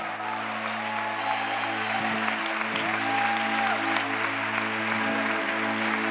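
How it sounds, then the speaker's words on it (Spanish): A church congregation claps steadily at an evening worship service, dense and continuous throughout, with sustained musical tones and organ-like chords running underneath. "Dele un aplauso al Señor."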